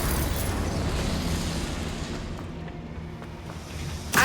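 A Confringo blasting curse explodes in the Hogwarts Legacy video game, a sustained rumbling boom that fades over several seconds before a sharp burst near the end, with no talk.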